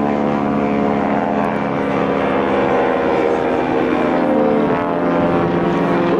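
Stearman biplanes of the Red Baron Stearman Squadron fly a two-ship routine at a 2004 Rhode Island Air National Guard airshow, their radial engines a steady, loud, unbroken propeller drone throughout.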